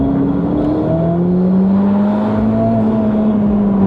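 Ferrari SF90 engine with its exhaust valves opened, a loud steady drone with rising harmonic tones as revs climb, sounding close and continuous throughout.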